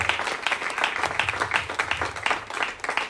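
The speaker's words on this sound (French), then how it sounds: "applaudisseren voor de Heer" A church congregation claps together for the Lord, a steady, dense round of applause that carries on throughout with a few voices mixed in.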